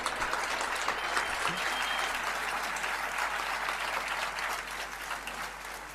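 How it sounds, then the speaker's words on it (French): An audience at a French political assembly claps steadily for a parliamentary group leader, dense sustained applause that fades slightly toward the end. "vous pouvez aussi l'applaudir"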